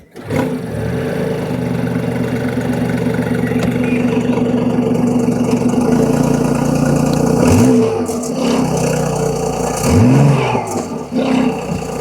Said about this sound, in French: je vais juste allumer le moteur